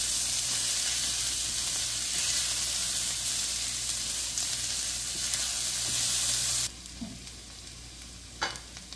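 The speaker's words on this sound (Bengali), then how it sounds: "পেঁয়াজটাকেও আমি ঠিক 1 মিনিট মতো ভেজে নেব।" Chopped onion frying in a pan of oil for a bok choy soup, giving a steady, close sizzle with stirring scrapes that drops sharply quieter near the end, with no talking.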